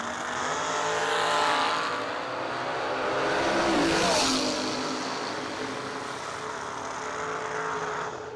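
A dragster launches down the drag strip, a loud engine roar that swells, passes and fades as it sweeps by at a distance, with a doppler-like shift near the middle and a faint voice underneath.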